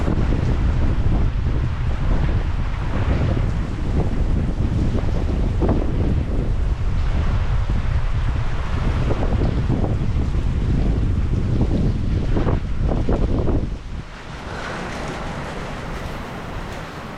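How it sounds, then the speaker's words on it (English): Heavy wind buffets the microphone in loud, rushing gusts outdoors in Oklahoma, with a steady wash of rain underneath that drops away near the end. "we are getting lots and lots of rain today"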